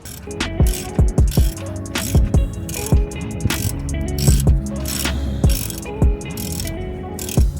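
Ratchet clicking in quick bursts while loosening the oil drain bolt under a BMW E84 X1, close and loud, with sharp metallic pawl ticks repeating across the whole stretch.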